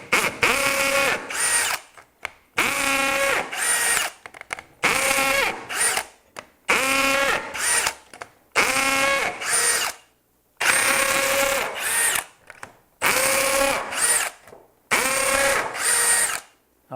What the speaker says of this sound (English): I'm going to drop 3 holes in each side of the back piece, and those are going to be attaching the sides.